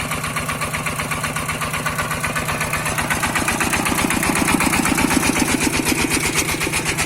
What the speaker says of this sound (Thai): ปั่นจากคลอง โดยเราจะใช้ เครื่องคูโบต้าครับปั่น